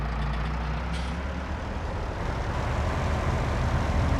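Steady low engine drone of a fresh tractor fitted with flotation tyres in a farming video game, loud and continuous with a brief hiss near the start, no talking.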